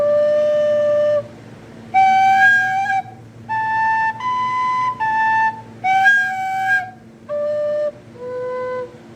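A Native American flute plays a slow series of sustained, breathy tones, each held a second or so with short gaps between, moving up and down in pitch; close, solo, over a faint steady background hum.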